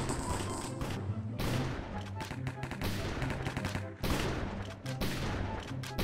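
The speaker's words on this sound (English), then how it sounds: "there's a lot of shooting going on." Rapid gunfire crackles through a Minecraft Cops and Crims match, with bursts of overlapping shots rising and falling in dense volleys and short pauses between them.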